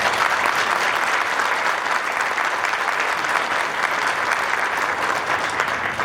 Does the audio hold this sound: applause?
yes